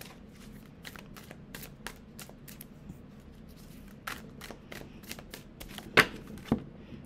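Tarot cards being shuffled by hand, a run of crisp riffling snaps and flutters in irregular bursts, close and moderately quiet, with no voices.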